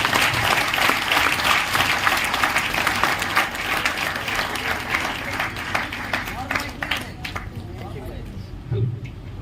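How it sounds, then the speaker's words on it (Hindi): A meeting audience in a Raipur hotel in Chhattisgarh claps loudly and steadily for about nine seconds, dense crowd applause that thins slightly near the end, with a little crowd murmur underneath. "ताली होना चाहिए दोस्तों, ताली बजना चाहिए"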